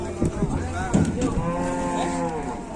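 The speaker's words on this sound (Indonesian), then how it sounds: "Dino iki akeh banget sapi ngamuk." Agitated cows moo repeatedly in long, loud, drawn-out calls that overlap close by, with a steady rumble of background noise underneath.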